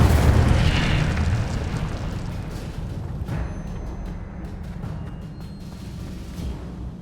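Incendio fire spell cast in Hogwarts Legacy, a loud whooshing burst of flame up front that settles into a rumbling crackle of fire with scattered sharper pops and crackles as it fades.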